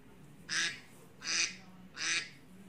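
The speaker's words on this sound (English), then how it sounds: "Duck. Duck." Three evenly spaced duck quacks, each short and bright, ring out clearly against a quiet background.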